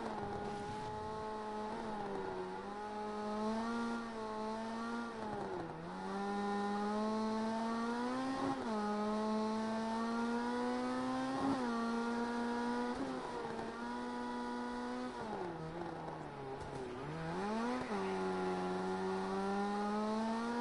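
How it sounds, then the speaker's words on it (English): A race car engine in the video game Project CARS 2 drones steadily with rising and falling pitch as it shifts through gears at Mount Panorama, loud and continuous with no talking. "we'll just listen to this engine sound"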